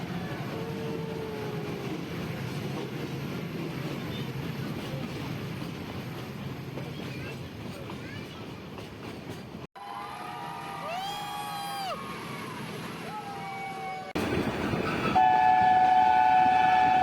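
The Nilgiri mountain railway train near Ooty rumbles and clatters along the track, a steady noise that carries on and grows louder toward the end, with squeals and a horn-like tone standing out.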